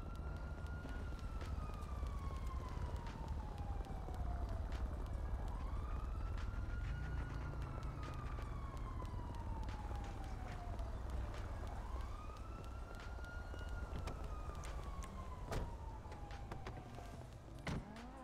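Police sirens sweep up and down in long, repeated wails, moderately distant and steady across the whole stretch over low traffic rumble, with no one talking.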